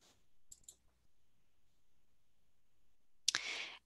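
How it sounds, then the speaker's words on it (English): A single mouse click on a Go button in a library certification web form, a brief sharp tick near the end of an otherwise quiet stretch, with an earlier pair of similar clicks. "And I'm just going to do that by clicking Go."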